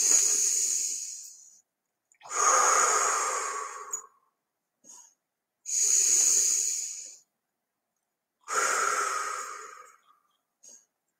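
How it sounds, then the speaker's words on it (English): A person takes deep breaths into the belly, four long audible hissing exhales spaced a few seconds apart with short sniffs between them, close and alone without talk. "Breathe 3 times into your belly and out."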